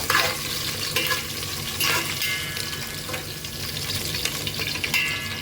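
Green chillies and vegetables fry in a pan for vegetable poha, giving a constant close sizzle with scraping stirs and splashy bursts, and no speech.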